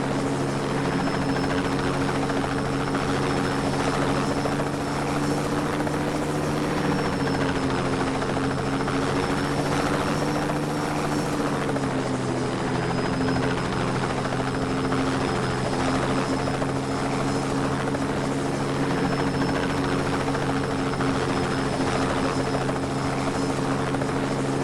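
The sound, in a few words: helicopter flying in video game Just Cause 2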